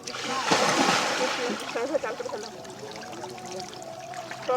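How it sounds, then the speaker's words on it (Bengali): Water is poured and splashed over a Gopal idol during a Snan Yatra bathing ritual at a temple, a close splashing burst that fades into trickling, with voices chanting and talking over it. "সবাই জল দিচ্ছে আমার গোপালকে"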